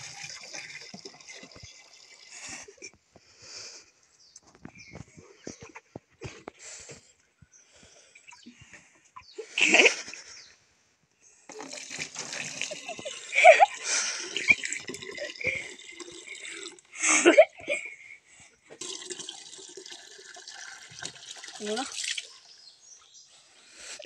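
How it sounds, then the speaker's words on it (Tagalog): Water being scooped and drawn into containers at a rural water source, with repeated splashing, dripping and pouring bursts, louder surges midway, and a voice speaking intermittently. "nagsasandok ng tubig na iniigib namin"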